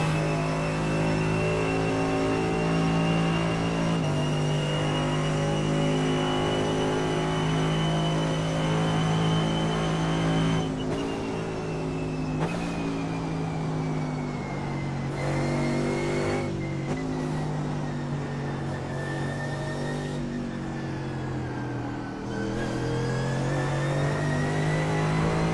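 Mercedes AMG GT3 race car engine lapping Mosport in iRacing, a loud continuous in-car engine note rising through the gears with sharp shift cuts and downshift blips, steady and close throughout.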